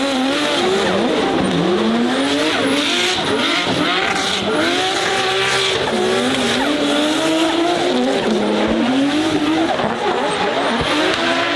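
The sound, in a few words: drift car skidding with tire squeal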